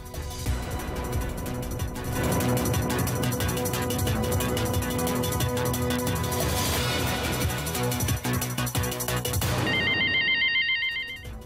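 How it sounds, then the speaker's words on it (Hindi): A phone-style ringtone plays loudly and continuously over a musical backing during a Hindi TV call-in show, ending with a brief electronic chirping tone before cutting off. "हमें फोन लगाया है"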